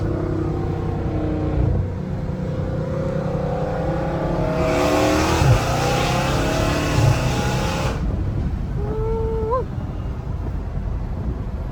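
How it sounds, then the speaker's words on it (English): Dodge Challenger Hellcat Redeye fitted with an aftermarket intake revs loudly and close by, its engine note climbing and winding up in repeated sweeps before dropping back to a rumbling idle, with no talking. "Without this intake, boys, it does not wind up like this at all."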